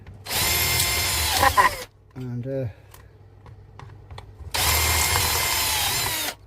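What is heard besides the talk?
power drill drilling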